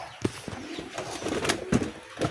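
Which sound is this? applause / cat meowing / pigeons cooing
pigeons cooing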